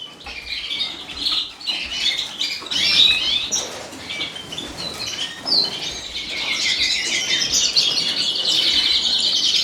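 Canaries, siskins and redpolls in an indoor bird room chirp, squawk and twitter almost nonstop, with occasional wing flaps, and the high chatter grows denser and steadier toward the end with no talking.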